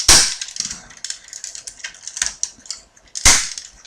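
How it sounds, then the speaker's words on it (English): Plastic Samurai Megazord toy parts click and snap as it is folded and pushed into shape, a string of sharp close clicks with a few louder snaps, heard alone with no talk. "to transform him, we're going to push this midsection down like that, click those legs in, and then fold these sections back"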